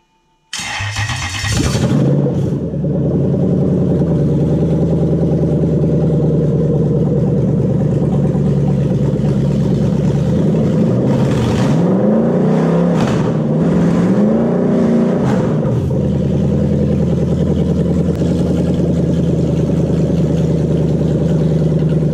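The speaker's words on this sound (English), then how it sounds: "now we'll make it run on a 171 Crown" Toyota 1UZ VVTi V8 engine cranking and catching, then idling loudly with several revs rising and falling in the middle before settling back to a steady idle, close up with no talk.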